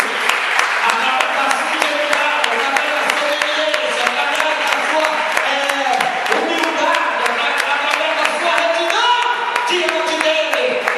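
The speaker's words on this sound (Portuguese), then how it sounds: "Quantos podem aplaudir o nome do Senhor Jesus?" An evangelical church congregation claps in praise, sharp hand claps pattering throughout beneath voices and tonal sound, a lively, sustained mix at moderate level.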